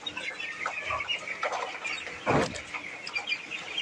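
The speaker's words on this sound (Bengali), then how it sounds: "এক হাজার মুরগির বাচ্চা লালন পালন করা হয়" Broiler chicks on a small family poultry farm of about a thousand birds peep and cluck in a steady, faint background chatter, with one louder burst partway through.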